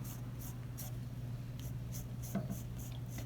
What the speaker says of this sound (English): I'll go over to this side and sketch down and follow the previous